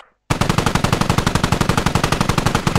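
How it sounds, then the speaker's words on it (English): A heavy machine gun in the video game Squad opens up after a brief silence, hammering out a loud, rapid, evenly spaced stream of shots close by for the rest of the clip. "HMG higher if you're going to shoot."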